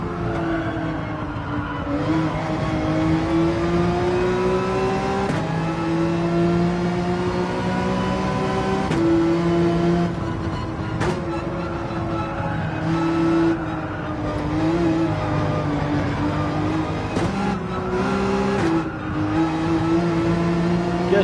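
A Hyundai race car engine at Spa in Gran Turismo 7 drones loudly and continuously, its pitch climbing and dropping through repeated gear shifts, with occasional tire squeal.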